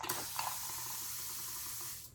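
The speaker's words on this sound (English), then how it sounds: "It is a mist sprayer." A mist spray bottle releasing one long, steady hiss of fine spray at close range, lasting about two seconds before cutting off, with no talk over it.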